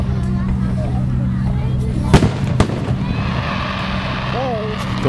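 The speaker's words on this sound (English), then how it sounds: "I'm trying to get the fireworks." Fireworks burst over Sault Ste. Marie, Michigan, during a 2011 display, two sharp booms arriving about half a second apart over a steady crowd murmur, with people talking nearby.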